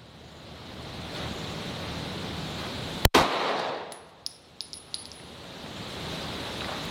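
Single sharp, loud pistol shot from a Springfield Armory Echelon at an outdoor range, with a few light metallic clinks of ejected brass landing afterward over steady wind-like background noise.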